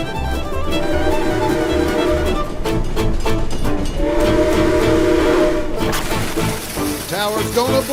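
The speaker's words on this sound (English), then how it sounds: "A train's coming that way!" A train sound effect on the Fire In The Hole indoor coaster ride at Silver Dollar City, a loud horn blaring over rumbling, clattering rail noise with crashing effects near the end.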